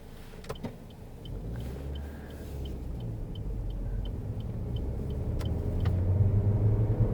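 A car drives along a country road, a steady low engine and road rumble that grows slightly louder, with faint regular ticking and a couple of sharp clicks inside the cabin.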